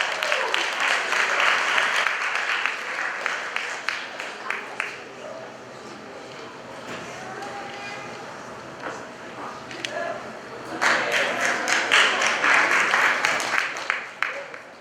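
A crowd at a high school cord ceremony applauds in two strong waves of clapping with a softer stretch between, a voice speaking briefly in the lull.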